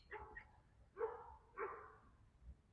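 A dog barks at a Myrtle Beach campsite, three separate fairly faint barks spaced about half a second apart against a quiet background.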